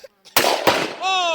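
A Black Rain Ordnance Spec 15 rifle fires a single loud, close shot outdoors in winter, with a sharp crack and a brief echoing tail, and a voice follows right after.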